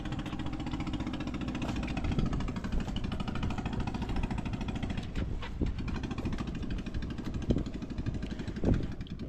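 Close and loud, the Honda motor on a newly fitted water pump runs on without a break, its dense, rapid mechanical chug holding level with a few brief clanks near the end.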